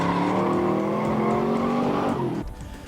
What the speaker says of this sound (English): a car we could push on the gas pedal and spin out